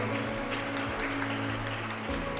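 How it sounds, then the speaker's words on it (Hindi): Steady audience applause fills a school prize-distribution ceremony, a continuous dense clatter of clapping with a faint hum underneath. "सभी प्लीज तालियां बजाते रहें।"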